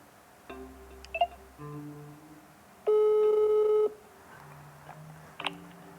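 Telephone tones ring out during the phone-a-friend lifeline on a Russian-language TV quiz show: a run of short beeps, then a steady, loud tone lasting about a second, and further brief beeps near the end, with no talking.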